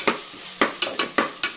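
Ginger garlic paste sautéing in a pan for mutton gravy, with green chillies and curry leaves: a close, soft sizzle broken by five or six sharp spoon-scraping stirs in a steady rhythm, with no talk.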